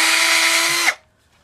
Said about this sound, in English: you get that piece of wood that you got, that cut off, and you just drill